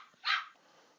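A single short bark from a small puppy, faint and somewhat distant in a quiet indoor room, lasting a fraction of a second.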